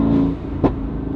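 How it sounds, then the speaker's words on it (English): A Mercedes-AMG GT with a titanium valved exhaust and free-flow downpipes gives a short, loud engine rumble with a quick rev blip near the middle, heard from inside the car. "Have we just created the best sounding AMG GT in the world?"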